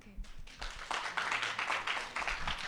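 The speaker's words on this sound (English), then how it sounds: "let's give us our top finalists a last round of applause" Audience at a closing ceremony applauding the finalists of an investment competition, a quiet but steady wash of many hands clapping that builds and holds, heard from some distance.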